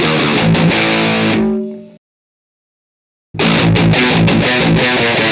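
Loud, heavily distorted electric guitar chords through an Orange high-gain amp ring out, cut off abruptly into about a second of silence, then the crunchy high-gain playing resumes.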